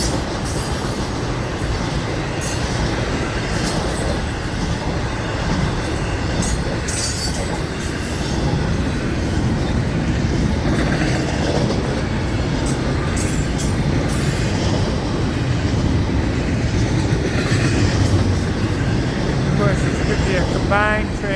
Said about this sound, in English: Combined train.